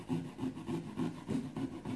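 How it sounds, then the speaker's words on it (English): Steady back-and-forth sawing through a pumpkin while carving out an eye, a rhythmic rasp of about eight strokes on soft, fibrous flesh, close up with no talking. "It's because I'm, like, sawing out the eye."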